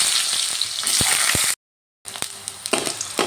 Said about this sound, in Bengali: এবার আমি আলুগুলো ভালো করে ভেজে নেব